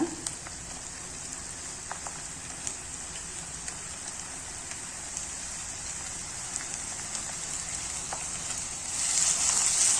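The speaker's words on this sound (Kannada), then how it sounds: "ಚೆನ್ನಾಗಿ ಫ್ರೈ ಆಗಲಿ ಶುಂಠಿ ಬೆಳ್ಳುಳ್ಳಿ ಪೇಸ್ಟ್ ಎಲ್ಲ." Ginger garlic paste frying in a pan for a mushroom gravy makes a constant crackling, rain-like sizzle with small pops. It is close and even, and the hiss swells near the end. No one speaks.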